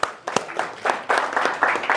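Audience clapping in a room, starting with a few separate claps that build into short bursts of group applause, moderately loud and uneven.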